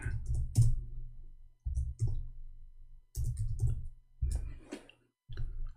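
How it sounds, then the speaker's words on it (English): Keys clatter on a computer keyboard in short irregular bursts of quiet, close clicks, with brief silent gaps between the runs of typing. "I'm typing in English again."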